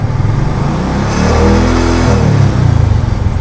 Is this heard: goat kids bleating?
no